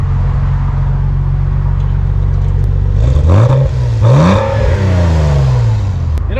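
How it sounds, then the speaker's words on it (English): A Porsche car engine idles at close range, then revs twice with rising and falling whine before settling back to a low steady idle. "Rev it up a little."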